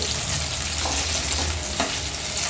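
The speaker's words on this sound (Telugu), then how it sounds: "ఇట్లా మిరపకాయలు మంచిగా మగ్గే వరకు వేయించుకోవాలండి" Chillies fry in a hot pan with oil, giving a continuous, close sizzle and crackle broken by soft stirring scrapes.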